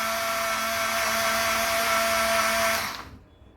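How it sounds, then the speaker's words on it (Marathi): A kitchen blender whirs loud and steady while blending buttermilk (chaas), then winds down and stops near the end. "तर बघा, हे छान असं ब्लेंड होतं."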